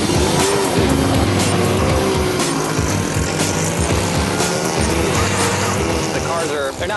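Race car lapping a track at an easy learning pace, loud engine droning and shifting throughout with occasional tire squeal, heard from on board with a voice talking over it.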